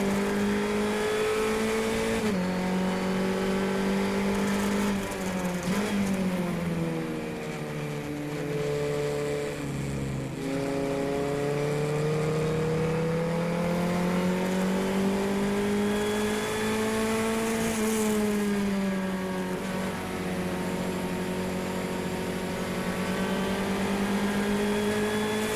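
A race car engine during the 2016 Palm Beach Road Race Classic, loud and close from the cockpit, revving up and down through gear changes in a continuous strained drone with no talk.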